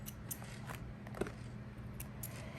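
Scissors snipping off the thread at the end of a seam on a vinyl boxy pouch sewn on a Janome machine, a single quiet close cut against a low steady hum.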